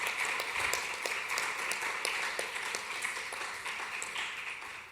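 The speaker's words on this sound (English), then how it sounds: "let's get a round of applause for our panelists here" An audience applauds panelists at an evening voting event with steady, dense clapping from a room of people that fades slightly toward the end.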